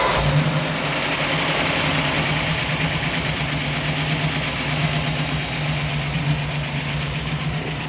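A worn 1964 Ford F100 with a 292 engine idles roughly, a steady loud close-up rumble with an uneven, lumpy beat and no talking.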